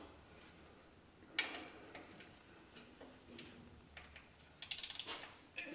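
A ratchet wrench turns by its square drive to loosen the transmission fill plug on a 1967 Mustang. There are quiet scattered clunks, then a short run of rapid, evenly spaced ratchet clicks near the end.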